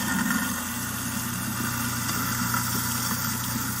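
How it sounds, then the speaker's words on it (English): A garbage disposal running, heard as a played recording: a steady mid-to-low mechanical hum and whir that holds at an even level for a few seconds, with no speech over it. "Garbage disposal is running, and I don't know when it started."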